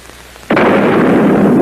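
A cannon fires with a sudden, loud boom that swells into a sustained, rumbling roar after a quiet moment.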